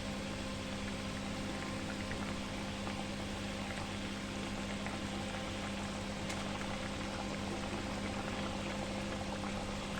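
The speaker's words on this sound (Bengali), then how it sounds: "এখানে আমার তরকারি বেশ ফুটে গেছে এবার আমি মাছগুলো একে একে দিতে থাকবো" Steady bubbling of curry boiling in a pan for doi katla, Bengali yogurt fish curry with katla fish pieces, continuous and fairly loud with a low hum throughout and no talking.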